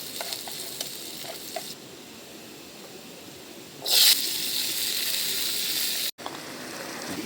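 Dried fish (tuyo) fries in a pan at an outdoor riverside camp, a continuous close sizzle that swells into a loud burst of spitting oil midway and then keeps hissing steadily.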